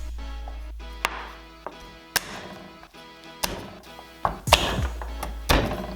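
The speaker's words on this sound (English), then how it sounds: "we need to add a couple of cloves of garlic and mash them" Garlic cloves being mashed for a lemon rosemary roast chicken with potatoes: a run of sharp, close knocks and thwacks on a hard surface, spaced irregularly, with a denser scraping burst near the end.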